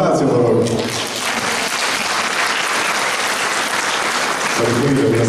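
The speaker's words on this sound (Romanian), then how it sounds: "Aplaudați-o, vă rog!" Loud, dense applause from the audience fills a carol festival hall, steady and sustained throughout, with faint voices mixed underneath.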